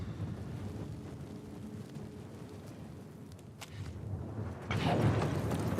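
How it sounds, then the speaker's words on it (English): Rain patters steadily in the video game The Last of Us Part II, a soft, even hiss with low rumbles, swelling into a louder burst near the end, with no talk over it. "it sounds like it's continuing to rain"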